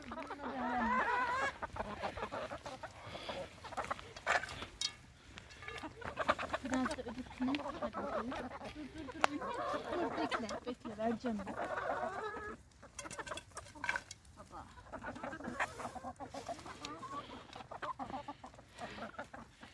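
Chickens cluck and murmur close by while eating greens in a busy farmyard, with scattered pecking sounds and a person talking intermittently in Turkish.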